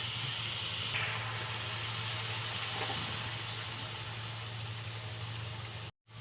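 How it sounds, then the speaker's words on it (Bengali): A spice paste of ginger, garlic and cumin with salt, turmeric and chilli sizzles in a pan while being sautéed for a rooster curry, a steady close hiss that stops abruptly near the end. "মশলাটাকে ভালো করে কষিয়ে নেব।"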